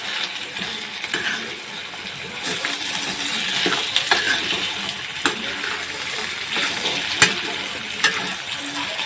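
Bottle gourd and tripe fritters tumble into hot oil in a pan and get stirred, giving a steady broadband sizzle with scraping clinks and small knocks from the spoon throughout, close and continuous with no talking.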